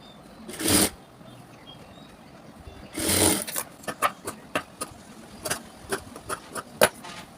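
A sewing machine stitches a cross piece onto a blouse: two longer whirring runs early, then a string of short quick stitching bursts with brief pauses between, fairly close and clear.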